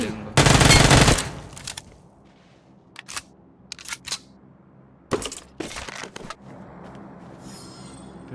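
Gunfire from the BGMI mobile battle royale game: one loud, sustained burst of automatic fire up front, followed by scattered single and double shots at irregular intervals, some closer and some thinner and farther off, over a low game ambience.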